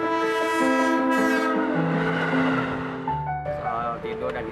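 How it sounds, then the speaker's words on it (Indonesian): A train passes through Jakarta, its horn blaring in long sustained tones that shift pitch before breaking off, over the rumble of rolling cars, loud and fairly near. "Suara paling terasa biasanya pagi hari sama malam hari, apalagi kalau keretanya lagi ngebut atau bunyi klaksonnya panjang."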